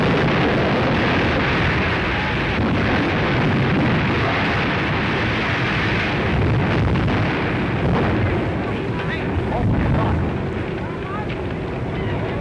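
The Hindenburg hydrogen airship burns after exploding: a dense, continuous roar of fire and crackling over a steady rumble, with voices woven through the noise.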